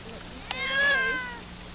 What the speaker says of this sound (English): She's a tortoiseshell kitty who's not happy.